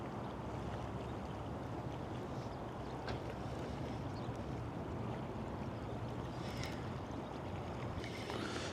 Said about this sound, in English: Comes a friggin' boat right through the area.